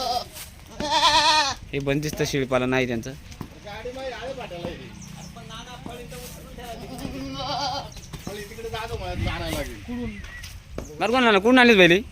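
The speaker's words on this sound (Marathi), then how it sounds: "वेगवेगळ्या प्रकारचे बकरे त्यांच्याकडं" Several goats bleat repeatedly, their wavering calls overlapping near and far, with some talking and background noise in between.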